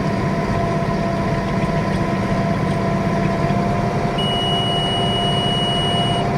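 A steady high electronic beep from a hay baler's monitor sounds over the loud, continuous drone of an idling engine, no voices present.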